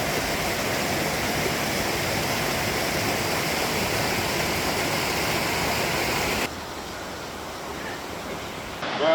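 A waterfall on Madeira feeding a levada roars steadily and close at hand, a dense, continuous rush of falling water that suddenly drops to a softer, more distant wash near the end.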